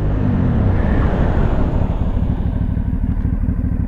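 An Aprilia Shiver 750 motorcycle brakes hard with ABS engaged. Loud, steady engine and road rumble fill the whole stretch with no clear pulsing, and a falling tone fades out in the first moments.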